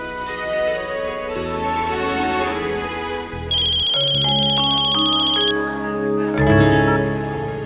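A telephone ringtone plays a bright electronic melody of repeating chiming tones, with shifting notes and a steady backing pulse, loud and close.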